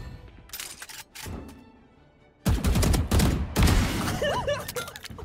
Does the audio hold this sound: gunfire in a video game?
yes